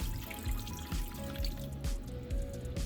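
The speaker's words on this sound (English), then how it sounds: "Now we're gonna deglaze with some chicken broth." Chicken broth is poured into a hot pan to deglaze it while cooking curry chicken, giving a steady close liquid trickle and sizzle, with soft repeated thumps underneath.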